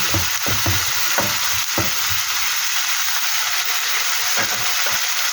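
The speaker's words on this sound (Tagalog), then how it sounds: "Hayaan lang natin maluto ang ating kamatis." Tomatoes sauté in a hot pan, giving a steady frying sizzle and hiss throughout, with a few soft stirring knocks early on and near the end, moderately loud and without speech.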